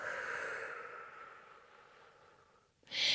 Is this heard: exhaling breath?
yes